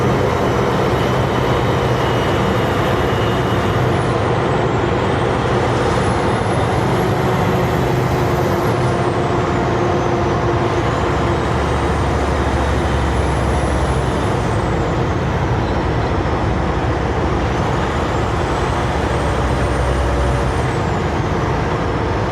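A loud truck engine drones steadily at close range under a constant cooling-fan roar, with a high whine that repeatedly rises and falls, on a mountain road.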